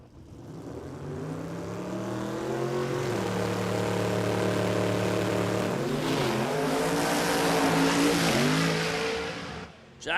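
A Toyota Hilux drag racer makes a full quarter-mile pass at Warwick Dragway, its engine roaring loud and continuous with rising revs, shifting pitch partway through, then fading as the driver lifts off early.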